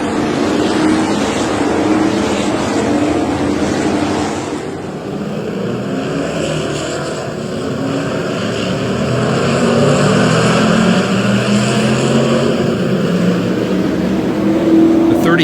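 A 30-car field of 1967 Group 7 Can-Am race cars roars off the start of the Chevron Grand Prix, a dense sustained engine thunder that dips briefly then swells again, loud and continuous.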